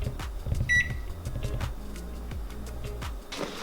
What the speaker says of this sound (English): And there's a steam button on the microwave.